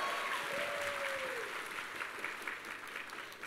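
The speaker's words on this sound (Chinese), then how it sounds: "掌声不够。" Steady, dense applause from an audience at a sales seminar, with a brief high whistle-like tone gliding down near the start, continuing evenly and fairly loud throughout.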